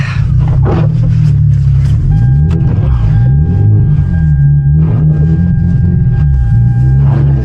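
Rear-wheel-drive coupe's engine droning loud and steady in a Canadian blizzard, a continuous close rumble that rises and falls slightly as the car spins, with faint voices in the background.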